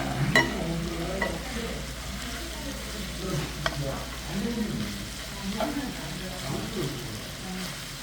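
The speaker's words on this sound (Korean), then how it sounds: "하드등 나물과 무 같이 오리 로스를 볶고 있습니다" Duck roast stir-fried with Japanese parsley and radish in a pan, giving a continuous close sizzle with occasional utensil clicks and scrapes, under a low background hum.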